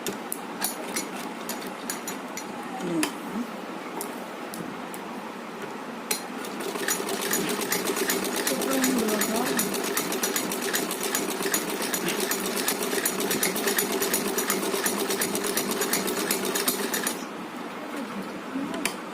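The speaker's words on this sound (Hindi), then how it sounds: "इसे दोबारा ऐसे ही हम इधर घुमा के एक सिलाई इस पे इधर लगेगी" A sewing machine stitches a ribbon dress for a small Laddu Gopal idol, running in a loud, steady, close mechanical whir that starts with short bursts and then runs continuously, with a voice speaking over it.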